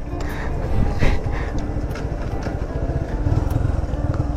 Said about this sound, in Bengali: বাইক এখানে থামাও, বাইক এখানে থামাও।